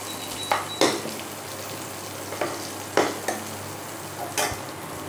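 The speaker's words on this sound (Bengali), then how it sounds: "এবারে ডালটাকে আমি ঢেলে দেবো।" Moong dal meets a hot pan in a Bengali bottle-gourd dal, giving a low steady sizzle broken by several brief bursts of spattering and scraping, close by with no talking.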